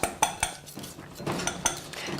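Metal knife scraping and tapping against a wire whisk while cleaning out stiff molten lava cake batter, a series of sharp clinks and scrapes at an irregular rhythm, close and fairly quiet.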